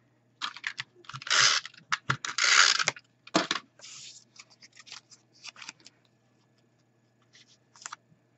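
Scissors snipping the ends off a piece of card stock in quick bursts of crisp cuts and paper rustle, close and fairly loud in a quiet room, tapering to a few isolated snips.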